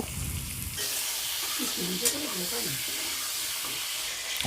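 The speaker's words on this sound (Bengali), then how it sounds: "পটলগুলোকে কড়ার মধ্যে দিয়ে আমি এইগুলোকে একটু মিডিয়ামভাবে ভেজে নেব" Pointed gourds rubbed with salt and turmeric fry in a wok with a loud, steady sizzle that swells after the first second, with faint kitchen clatter beneath and no talking.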